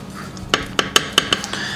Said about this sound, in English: Now we're going to fish out those bay leaves, set those aside